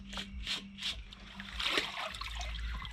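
Water drains and trickles out of a sieve of gravel during sapphire fossicking. A few quick splashing pulses come first, then a brief larger splash, all close and fairly quiet over a low background hum.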